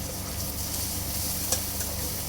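Turmeric and chili powder fry in oil over lightly browned onions, giving a steady, even sizzling hiss with one small clink, at moderate volume and without talking.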